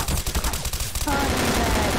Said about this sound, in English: Oh, M9K submachine gun. Yep. Honey Badger.